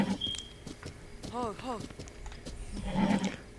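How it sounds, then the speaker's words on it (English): A horse in Zelda: Breath of the Wild whinnies in a short rising-and-falling neigh, with game hoofbeats and ambient effects around it and a voice talking over the scene. "your horse better get calm too"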